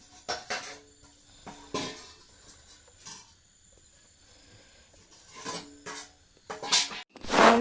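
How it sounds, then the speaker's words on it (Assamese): Boiled chicken meat being torn into small pieces by hand for an oil-free chicken salad, a series of soft, close rasping and rubbing bursts in an uneven rhythm, with brief scrapes and a louder rustle at the end. "নমাই থোৱা মাংসখিনি মই হাতেৰে সৰু সৰুকৈ টুকুৰা কৰি লৈছোঁ"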